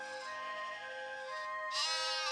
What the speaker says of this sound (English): looking after a flock of sheep up in the hills